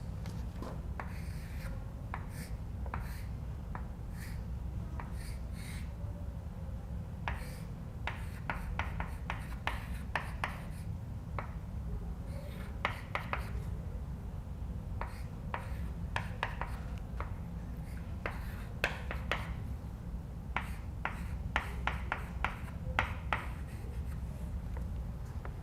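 Marker or chalk strokes as a lecturer writes the structure of fructose on a board, producing repeated short scratching bursts in irregular clusters over a steady low room hum, with no talking.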